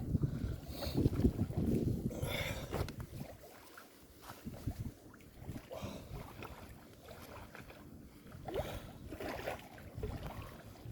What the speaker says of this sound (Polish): Gdyby nie ten wiatr, to było fajnie.